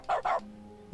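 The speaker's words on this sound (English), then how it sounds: "Now when I press the interact button, it makes a dog noise." Two quick cartoonish dog barks from The Stanley Parable Ultra Deluxe video game, close and clear, followed by a low hum and the start of a third bark.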